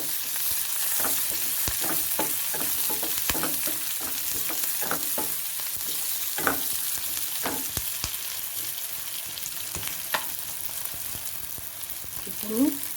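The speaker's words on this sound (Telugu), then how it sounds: "ఉల్లిపాయలతో పాటు బాగా ఫ్రై అవ్వాలి కరివేపాకు" Curry leaves frying with onions and salt in hot oil, a steady close sizzle broken by regular scraping strokes of a spoon stirring, with no voices.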